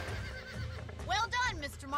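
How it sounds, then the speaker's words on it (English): Horse neighing in the Red Dead Redemption game during a bronco-busting ranch mission, a loud whinny over the last second amid a game soundtrack with voices talking. "Marston, these are fine horses."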